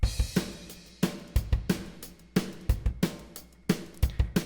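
Dry, unprocessed pop punk drum kit from Superior Drummer software plays a steady groove alone, with punchy kicks and cracking snare hits in repeating bar-length patterns and cymbal wash over the top.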